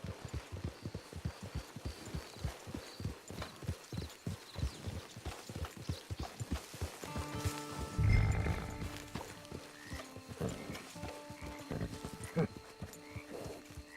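In Red Dead Online, steady clip-clop of horse hooves plods along at a walk, with a brief whinny partway through and music or ambience underneath.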